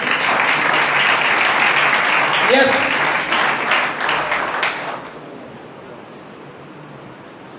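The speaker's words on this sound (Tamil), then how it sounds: "கை தட்டலாமா?" A church congregation applauding at a sermon, a loud dense wash of clapping for about five seconds that fades away, with a voice speaking briefly in the middle.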